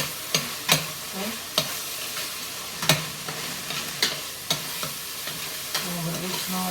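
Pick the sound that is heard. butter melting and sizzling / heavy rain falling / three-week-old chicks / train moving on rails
butter melting and sizzling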